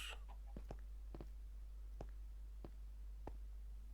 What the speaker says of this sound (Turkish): Burada tavuklarımız var.